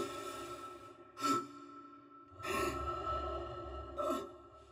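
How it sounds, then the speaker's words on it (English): Isaac Clarke's heavy breathing and exertion grunts from the Dead Space video game: three sharp, breathy bursts spaced a second or two apart over a low, steady breath bed. "you would hear additional grunts to emphasize his level of exertion play simultaneously"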